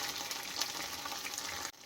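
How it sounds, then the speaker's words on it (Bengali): Ginger paste frying together with cumin, turmeric and chili pastes in a pan, a continuous close sizzle with faint stirring, cutting off briefly near the end. "আর দেব লঙ্কা বাটা দিয়ে একটু একসাথে ভাজা ভাজা করে নেব"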